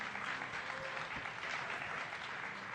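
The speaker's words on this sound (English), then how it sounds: "let's give him a round of applause, everybody" Steady, dense applause from the crowd at an esports grand final, honouring the champion; continuous clapping throughout, moderately loud and unbroken.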